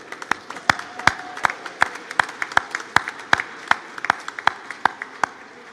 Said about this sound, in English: Join me in a round of applause to honor those who helped you get here today.